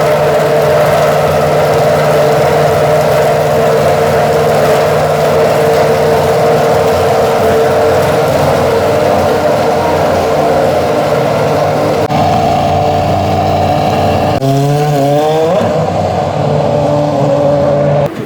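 Formula 1 car engine on a warm-up lap, a loud sustained high-pitched drone that holds steady, then shifts and sweeps as the revs change near the end.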